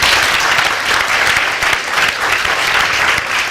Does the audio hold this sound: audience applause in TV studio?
yes